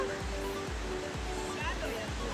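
Fukuroda Falls pours water in a steady, dense broadband roar that runs unbroken through the whole stretch, with a low murmur of talk underneath.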